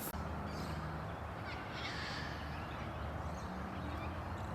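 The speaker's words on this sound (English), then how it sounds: "Noisy miner." Harsh, scolding noisy miner calls repeat over a steady rush of background noise in a suburban park in Adelaide, South Australia, fairly close and moderately loud.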